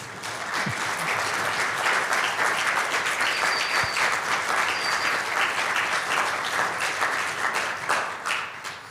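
Sustained, loud audience applause fills a lecture hall at a university's inaugural professorial lecture, a dense steady clapping that holds for the whole stretch without talk.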